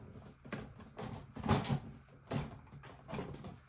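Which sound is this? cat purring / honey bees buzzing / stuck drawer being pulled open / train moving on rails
stuck drawer being pulled open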